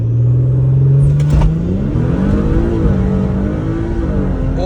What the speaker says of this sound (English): I'm gonna do my best to do a 0 to 60, at least get one launch in and see what she does.